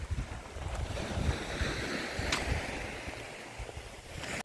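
Sea waves wash along the Odesa shore on a winter day, a continuous low rumble of surf mixed with gusting wind noise on the microphone, with no one talking.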